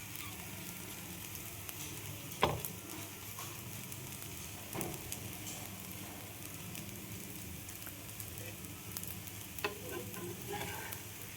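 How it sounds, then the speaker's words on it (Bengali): Flatbread fries on its second side in a pan over a medium flame, a soft, steady sizzle with a few faint clinks and scrapes, quiet and close, with no talking. "দেখো একটা পিঠ ভাজা হয়ে গেছে, আর একটা পিঠ আমি ভেজে নিলাম"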